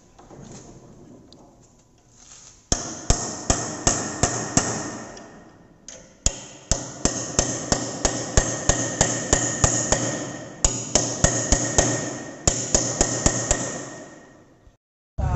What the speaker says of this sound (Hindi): हैमर का प्रयोग चिपिंग में किया जाता है।